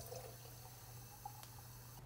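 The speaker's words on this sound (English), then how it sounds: "I'm gonna put a little hot water, warm water in there" Warm water trickles and pours into a glass mason jar, a faint, steady liquid fill running throughout with a soft low hum beneath and no talk.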